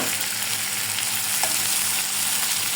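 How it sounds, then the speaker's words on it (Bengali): Ingredients for a hilsa fish and vegetable curry fry in a pan, giving off a loud, steady, close sizzle that runs without a break and with no talking. "দেখো এটা ভাজা হয়ে যাচ্ছে।"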